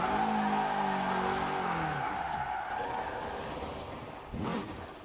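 A tuned 550-horsepower car drifting in Forza Horizon 4, its engine droning at a steady high pitch with tires sliding, the sound easing off slightly before a brief rise near the end.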